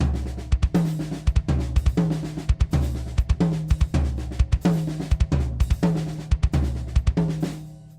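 Drum kit playing a linear fill with a paradiddle that starts on double bass drum strokes, paired deep kick thumps followed by rapid snare and tom hits in a tight repeating pattern, loud and close with no talk.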